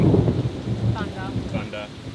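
Thunder rumbling during a rainstorm in Singapore, a loud low roll at the start fading under steady rain hiss, with a few faint voice-like tones in the second half.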